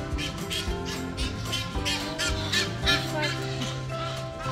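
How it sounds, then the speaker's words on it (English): Ducks honk and quack in a busy, overlapping flock on a Cape Town mountainside walk, the calls fairly close and continuous throughout. "Here come the ducks."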